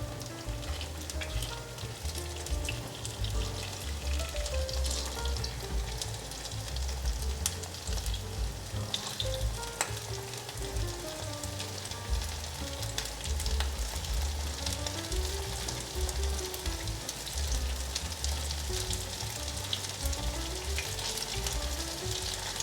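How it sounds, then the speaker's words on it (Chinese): Tofu fries in oil in a wok, giving a dense, continuous crackling sizzle close up that holds steady throughout, with no talking. "让它先炸定型，等下再来翻动。"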